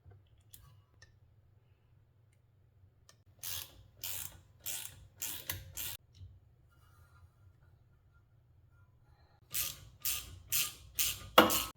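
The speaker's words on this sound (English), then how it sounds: "Torque both of the 4mm guide bolts to 25 pound-feet" A ratchet tightens the brake caliper guide bolts on a 2010 Volkswagen Jetta 2.5L during a front pad and rotor job: two close bursts of rapid metallic clicking separated by a quiet pause.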